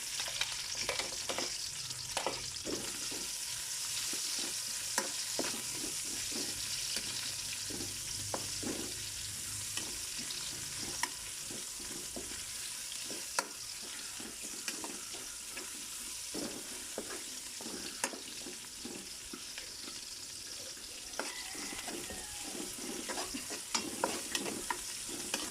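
Onions sizzle steadily in hot oil for ginisang monggo while a utensil scrapes and stirs the pan in irregular strokes, a constant close frying hiss beneath the taps.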